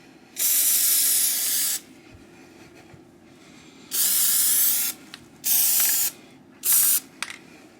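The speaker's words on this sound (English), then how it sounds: "this one does seem more like a spray can rather than gloop being shot out" An aerosol can of rubberising spray coating a plastic battery case sprays in four hissing bursts, two long and two short, separated by quiet pauses and a faint click.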